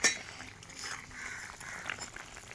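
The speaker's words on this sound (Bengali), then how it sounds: "ঢাকনাটা খুলে দিলাম।" Metal lid lifted off a pot of bata fish cooked in raw mustard paste, opening with a sharp clink, then faint bubbling and light clatter of cookware close by.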